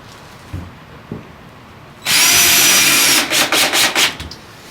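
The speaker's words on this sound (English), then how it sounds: "Just go ahead and go in all 4 holes. Screwing this in." A power drill drives 2 1/4 inch pocket screws into the wooden frame of an 8x14 chicken coop, a loud, sustained whine after a quiet start, breaking into several short bursts as each screw seats.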